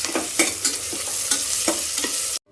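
Turmeric-coated biryani masala for a green vegetable biryani fries in a pan, a steady close sizzle broken by rhythmic scraping stirs roughly every half second, stopping abruptly at the end.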